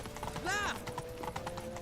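Horse hooves clip-clopping in The Witcher 3, a short run of quick hoofbeats with a whinny in the middle, quiet and partly under the sound of the game.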